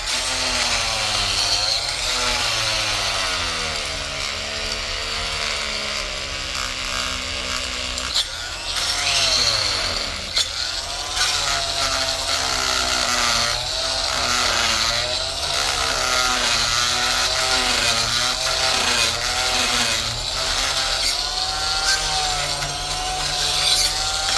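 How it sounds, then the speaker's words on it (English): A corded multi-oscillating tool buzzes steadily while scraping cement and rust off metal tools, a continuous harsh whine with shifting pitch as pressure changes, loud and close throughout. "I'm gonna use an multi-oscillated tool. I have this corded one."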